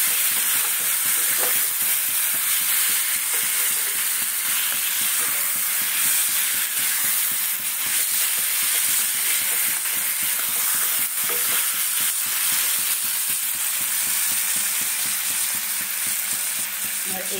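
Meat sizzling steadily in a hot pan while being stirred, with a constant bright frying hiss and repeated scraping stir strokes throughout, close and fairly loud, no talking.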